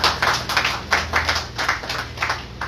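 A small audience claps for a panelist after a talk on the role of police in a democratic state. The hand claps are close and distinct, arriving in a loose, uneven rhythm without voices.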